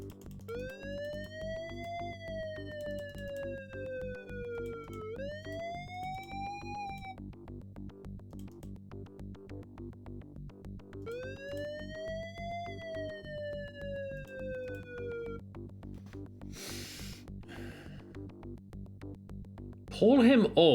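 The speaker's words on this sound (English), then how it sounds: "Pull him over by driving even with the vehicle behind him and switching on the siren." A police car siren from Police Quest III wails in rising and falling electronic sweeps, sounding in repeated cycles over game music before cutting off, with a brief burst of noise near the end.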